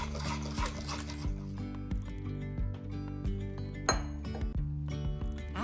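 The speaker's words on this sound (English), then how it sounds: "Maple syrup, and give that a good whisk." A whisk clinks and scrapes against a bowl while blending maple syrup into the wet ingredients for gluten-free chocolate peanut butter banana bread, with a steady close clatter and sharper taps throughout.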